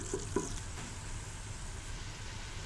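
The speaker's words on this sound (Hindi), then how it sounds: "ये देखिए ये मसाला भुन रहा है।" Masala for beef paya sizzles and fries in oil in a pot, a steady close crackling hiss with a couple of faint clinks of a stirring spoon near the start.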